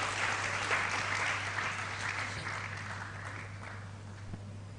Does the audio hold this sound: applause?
yes